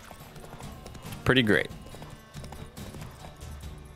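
Horse hooves clip-clop in The Witcher 3 on PS5 as a steady, moderate walking rhythm under someone speaking briefly over the game sounds.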